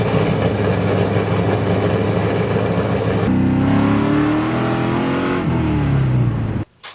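A truck's swapped-in LS1 V8 idles roughly, then revs up and climbs in pitch before cutting off abruptly, loud and close with no talking.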